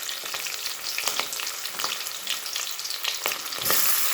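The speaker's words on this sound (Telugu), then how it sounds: "ఉల్లిపాయలు పచ్చిమిరపకాయలు రెండు కలిపి వేసుకుందామండి." Onions and green chilies fry in hot oil, giving a continuous close crackling sizzle with sharper pops and stirring scrapes throughout, loud and without talking.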